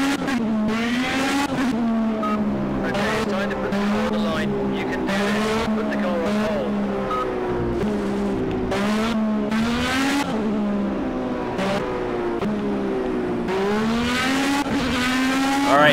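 Race car engine in the Project CARS video game, a powerful Formula B car, droning loudly with rising and falling revs throughout, with tyre squeal mixed in and no talk.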